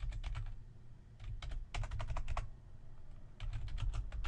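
Someone types a question into a form on a computer keyboard, with quick bursts of clicking keystrokes separated by short pauses, close and fairly quiet.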